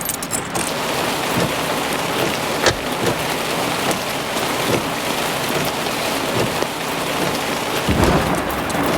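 Heavy rain pours in a dense, loud, steady hiss during a thunderstorm, broken by sharp nearby thunder cracks and rumbles, with no voices.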